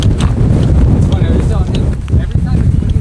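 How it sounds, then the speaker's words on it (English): Wind blowing across the golf course at Whistling Straits, a loud steady buffeting roar against the microphone that persists throughout, with voices faintly mixed in. "it's always windy like this"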